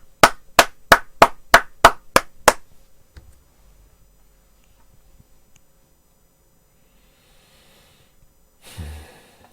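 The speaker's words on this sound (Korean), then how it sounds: "이정화 검사에게는 다시 또 박수를 보내드리겠습니다." Sharp hand claps, about eight in a quick, even rhythm, loud and close, stop abruptly and are followed by near silence with a faint rustle at the end.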